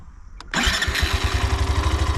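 A Hero Xtreme 125R motorcycle fires up on its electric self-start, a short starter whirr giving way to a loud, steady close-up idle with a pulsing low throb that carries on to the end.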